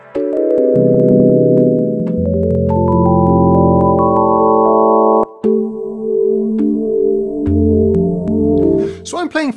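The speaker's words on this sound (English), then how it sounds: "So I'm playing for you now a bank of 32 presets that were made specifically for DexEd" Presets from a bank made for Dexed, a software emulation of the Yamaha DX7 FM synthesizer, play layered sustained chords that shift pitch, then a brief break and a new patch with plucky, percussive attacks.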